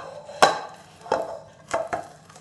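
A utensil lifts a hot sesame chikki mixture from a metal wok, giving four sharp, close knocks spaced about half a second apart against the pan, with quiet gaps between them and no voices.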